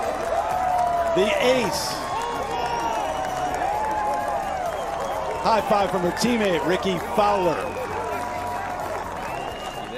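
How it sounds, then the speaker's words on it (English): A golf gallery at the Grant Thornton Invitational keeps cheering and applauding after a hole-in-one on the par-3 16th, with a steady roar of voices and clapping under a commentator's talk. "Crowd still buzzing after the ace from Lexi."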